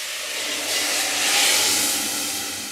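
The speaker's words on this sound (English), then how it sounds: "so listen for the sizzle" Cold water, about 500 ml, poured onto carrots frying in a hot pan gives a broad, steady hiss of steam that swells and then slowly fades, loud and continuous with no talking.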